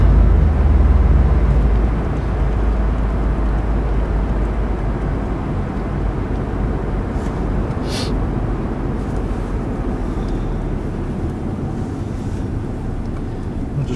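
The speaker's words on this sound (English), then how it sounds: "arriving at the airport" Airport ambience on arrival: a steady, loud wash of wind and distant engine rumble, continuous throughout with no clear talk.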